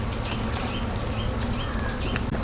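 Wild bees buzz steadily and close around a honeycomb as it is harvested for wild honey, a dense continuous drone with no talking.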